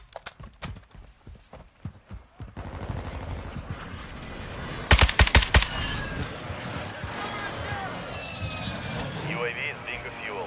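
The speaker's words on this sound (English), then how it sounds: "Friendly airstrike in the AO" Gunfire and an airstrike in a PS4 military shooting video game: scattered single shots and a brief loud volley of explosive blasts over a low rumbling aircraft drone, with radio-style voices talking throughout.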